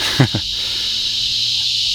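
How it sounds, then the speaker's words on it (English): Crickets chirp in a steady, high outdoor drone at a rural Louisiana site, continuous and fairly loud throughout, with a brief low thump near the start. "It's peaceful out here if you can deal with the crickets."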